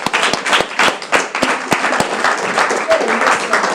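An audience at a school-kit handover ceremony for children with disabilities applauds in uneven bursts of clapping, fairly close, with voices talking over and between the claps.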